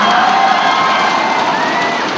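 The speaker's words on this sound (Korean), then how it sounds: "큰 박수로 맞아주십시오" A large crowd cheers and applauds for the champion at an esports StarCraft league final, a loud, dense roar with whoops and shouts that holds steady throughout.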